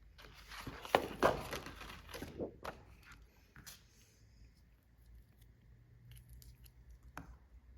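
Close-up sticky crackles and rustling bursts as red tape is pulled and pressed down on a paper pop-up album, loudest near the start, then quieter scattered handling noises.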